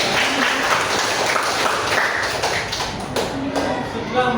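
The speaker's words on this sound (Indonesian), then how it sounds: "Ya, tepuk tangan ya." A classroom bursts into applause, many hands clapping in a steady, fairly close patter for several seconds, with voices mixed in.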